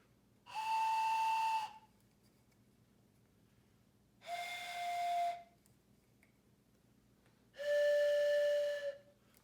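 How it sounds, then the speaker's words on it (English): An antique four-hole toy train whistle blown with some holes covered gives three separate breathy, steady tones, each lasting about a second, with pauses between them and a different pitch on each blast. "Now I'm going to cover 3 different ones."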